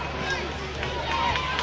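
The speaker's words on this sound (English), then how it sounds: "There's starting to be a buzz in the crowd." Steady murmur of a youth baseball crowd at a Cal Ripken World Series game between Winchester and Visalia, a continuous low buzz of voices and chatter filling the stands without a single clear speaker.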